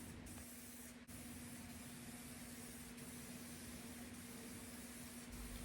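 Spray paint going on as base coat in a Honda engine bay, a steady hissing spray held almost without break under a faint constant hum, with a short pause near the start.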